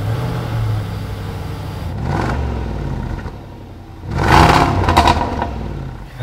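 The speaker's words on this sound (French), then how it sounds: "donc on va démarrer la voiture" Jaguar F-Pace SVR or Range Rover Sport SVR engine cranking and firing up, a short whirring start followed by a louder surge as it catches, heard close and alone.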